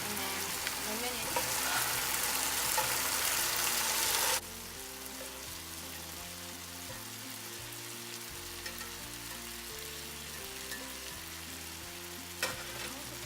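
Vegetables and spices stir-frying in a pan for a homemade Chinese stir fry, a loud steady sizzle for the first few seconds that drops to a quieter continuous frying hiss, with no talk.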